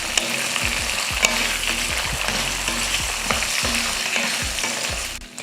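Tomato and tamarind sautéing in a pan for chutney, a loud continuous frying sizzle with repeated spatula scrapes and stirs throughout, close and steady before dropping away at the end.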